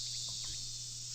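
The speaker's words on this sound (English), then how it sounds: "Cicadas making loud sounds and ringing in your ears." Summer cicadas in a visual novel game keep up a loud, continuous, high-pitched buzzing drone with no pauses, steady throughout.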